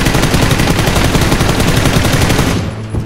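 Loud, rapid automatic gunfire in PUBG (Playerunknown's Battlegrounds), a continuous burst that cuts off abruptly near the end.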